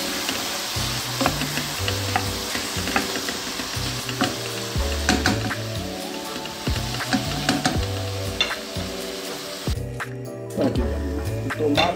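Chopped tomatoes, cut into large chunks, fry and sizzle in a pan while cooking down for a chicken pie filling, with a steady crackling hiss, occasional stirring scrapes and low background music throughout.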